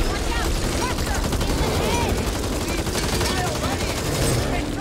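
Sustained automatic gunfire in the co-op zombie shooter Back 4 Blood during a final boss fight, rapid dense bursts of shots going on continuously, loud and layered with game effects while players talk over it.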